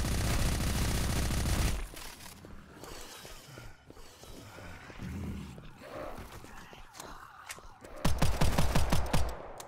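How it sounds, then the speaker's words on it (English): Explosions and blasting from the demon-shooter game Hellbreach Vegas: a loud sustained roar at first, then a mix of rumbling impacts and scattered shots, ending in a burst of sharp rapid bangs. "That explosion's good"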